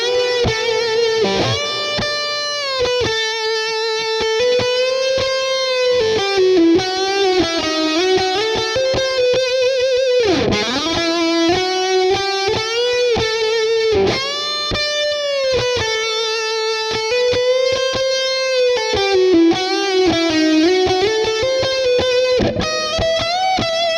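Audio processed through the Liquidsonics Seventh Heaven reverb plugin: a sustained, distorted, heavily reverberant lead line with sliding pitches and rhythmic attacks carries on for about twenty seconds, loud and continuous, with no talking.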